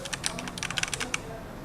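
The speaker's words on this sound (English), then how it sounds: "My crunchy little keyboard." Fingers tap out a quick, uneven burst of keystrokes on a crunchy little computer keyboard, crisp clicks heard up close for about a second before stopping, with no voices.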